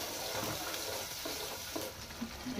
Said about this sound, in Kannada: ಇದನ್ನು ಹಾಕಿ ಕಲರ್ ಚೇಂಜ್ ಆಗೋವರೆಗೂ ನಾವು ಎಣ್ಣೆ ಒಳಗೆ ಈ ಥರ ಫ್ರೈ ಮಾಡ್ಕೊಳ್ಳೋಣ